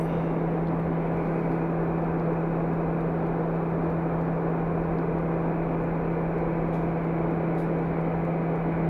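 Steady, unbroken drone of a Cessna 172 engine in a flight simulator game, a constant hum with broadband rush holding level throughout and no speech.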